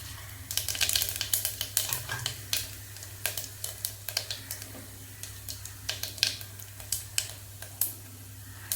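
Cumin seeds with bay leaf, cinnamon, cloves and stone flower crackle and sizzle in hot oil, a quiet run of sharp irregular pops and spits over a low steady hiss, close up and with no talk.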